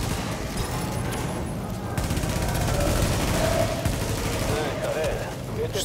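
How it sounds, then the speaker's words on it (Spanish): Gunfire in The Division during a Dragon's Nest incursion, with a dense, steady fusillade of shots and bursts running continuously under the game's action. "Es dos disparos."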